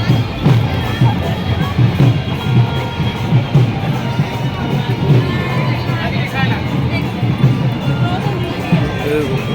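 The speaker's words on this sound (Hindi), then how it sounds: "क्या भीड़ है भाई" A dense crowd at the Surajkund fair in India creates a continuous, busy hubbub of mixed voices and footsteps, with someone talking over it nearby.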